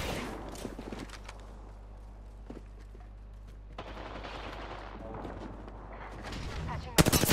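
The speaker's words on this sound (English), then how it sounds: "Shooting." Gunfire in the Apex Legends video game: loud bursts of shots and booming impacts, thickening into heavy fire near the end, with a voice speaking over parts of it.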